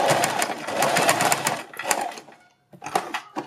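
A sewing machine stitches fabric strips in a fast, rhythmic burst of needle strokes, stops briefly in near silence, then starts again with another short run.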